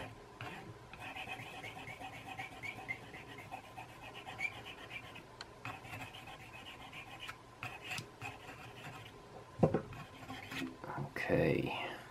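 A fingernail file scrapes burrs off small fly-tying lure eyes in quiet, intermittent rasping strokes, close and faint, with a few louder handling knocks near the end.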